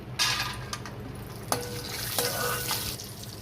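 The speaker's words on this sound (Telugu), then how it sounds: "నెయ్యి వేసాను అది వేడెక్కింది వంద గ్రాములు జీడిపప్పు వేయించుకుంటున్నాను" Cashews fry in hot ghee with a soft, continuous sizzle, broken by several sharp metallic taps and scrapes of a spoon against the pan.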